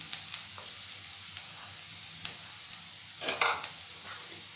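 Steady, close sizzling of coriander powder frying in a pan with cooked ginger-garlic paste for a mushroom pepper fry, with a spoon stirring and scraping through it in a few brief bursts.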